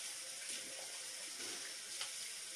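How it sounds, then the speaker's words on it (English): A tap runs steadily into a sink as the water warms up for face washing, a continuous hiss and gush that stays close and even throughout. "Trying to get the water warm so I can wash my face"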